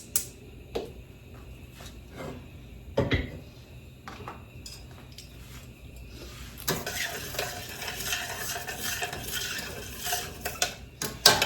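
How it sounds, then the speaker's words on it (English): Red wine deglazes a pan after browning short ribs, starting with spoon clinks and scrapes, then a louder hissing sizzle as utensils scrape the browned bits from the bottom, close and without speech. "I'm gonna add a little bit of red wine to that, just to help get the rest of the little bits off the bottom"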